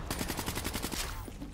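A quick string of loud gun blasts in Black Ops 3 Zombies, evenly spaced reports rattling close by before the firing stops.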